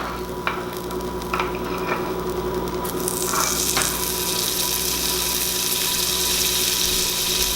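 Butter heats in a hot pan for venison steaks, a steady sizzle that swells louder and brighter midway, with a few faint clinks at the start.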